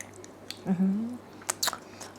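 Someone eating developing duck and chicken egg embryos served with seafood dipping sauce makes a few soft, wet, close chews and small bites. A brief murmured voice is heard among them.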